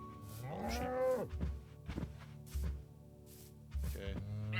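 Cows in the Minecraft video game give several low, drawn-out moos, one after another, loud and close, alongside a few soft thumps.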